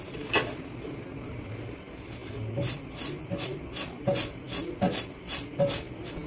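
Radhuni spice seeds being rubbed by hand and shaken clean of grit, a close dry rasping rub repeated in short rhythmic strokes, fairly quiet with no voices.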